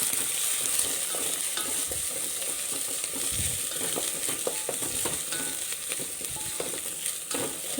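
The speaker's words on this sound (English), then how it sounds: "Till the raw smell goes off, we have to saute this." Split green chili sautés in a hot pan, giving a steady close sizzle with light scraping and stirring clicks throughout.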